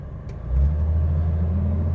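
Engine of a 1966 Chevy Corvair running, a loud low steady rumble that swells briefly and then holds an even idle throughout, with no talking.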